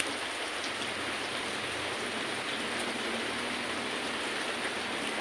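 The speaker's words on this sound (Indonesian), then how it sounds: "terlebih dalam cuaca hujan yang begini lebat" Heavy rain pours steadily on a leaky mission house in windy weather, a constant dense roaring hiss with no breaks or voices, moderately quiet overall.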